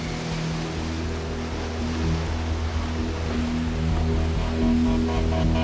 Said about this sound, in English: we're still left with the residual wind and waves here on Lake Erie